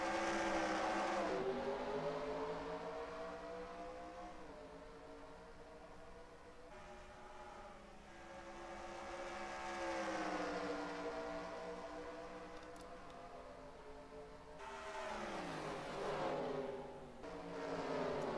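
Race cars drone and rise in pitch through the gears at Richmond in the NR2003 racing video game. The engine whine is loud and continuous and swells as the pack accelerates, with no talk.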